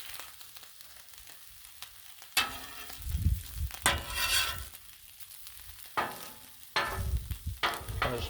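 Canadian bacon sizzles and fries on a griddle, a steady crackling hiss with several louder bursts of spattering as pieces settle into the fat.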